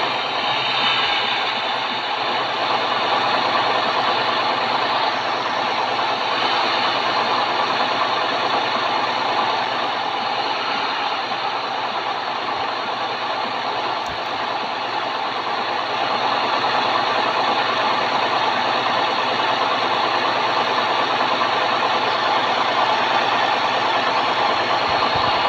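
A Volvo truck engine drones steadily while driving, a continuous loud hum with a faint whine on top that holds level from start to finish with no talking.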